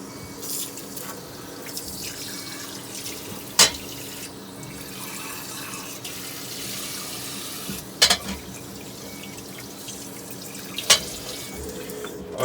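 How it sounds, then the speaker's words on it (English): Kitchen tap running into a sink during dishwashing, with purified water used for the rinse; a steady, moderate water stream runs throughout, broken by a few sharp clinks or splashes. "I also washing the dishes with purified water"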